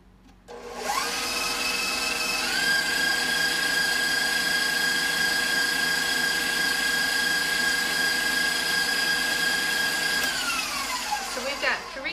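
A KitchenAid stand mixer whirs steadily at close range, blending margarine and butter in an even, high-pitched motor drone that holds for about ten seconds before winding down.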